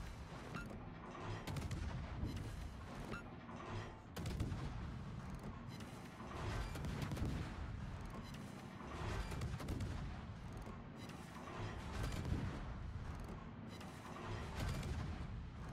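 Naval guns firing armor-piercing shells in a warship video game, a dense run of heavy booming salvos and cracks overlapping one another, loud and continuous with no talk.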